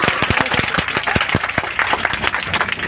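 Audience claps at a Republic Day (26 January) school speech event, a close, loud burst of many hands with distinct sharp individual claps in an uneven, lively rhythm, no talk over it.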